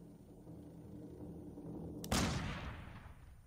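A single loud, sharp gunshot blasts in the horror video game Layers of Fear 2, cutting in abruptly over a low ambient drone and decaying over about a second.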